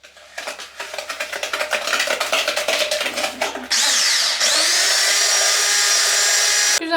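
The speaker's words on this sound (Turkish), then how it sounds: "Bu harcı da içine döküp yine mikserle karıştıracağız" An electric hand mixer whisks eggs and sugar in a bowl, first in pulsing rhythmic bursts as the beaters scrape, then a loud continuous whine at higher speed, close and alone.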